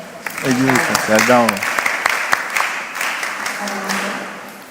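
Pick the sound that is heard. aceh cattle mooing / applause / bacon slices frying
applause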